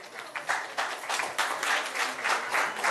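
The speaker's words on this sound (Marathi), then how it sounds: "जरा जोरदार टाळ्या." An audience at an engagement ceremony bursts into lively applause, with a dense crowd of hands clapping in uneven surges, fairly close and sustained for a few seconds.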